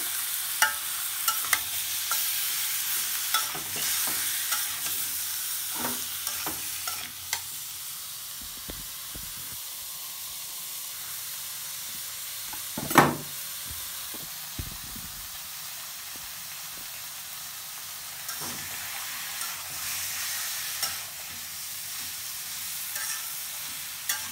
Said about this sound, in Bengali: এই যে পেঁয়াজ কুচি দিয়ে দিচ্ছি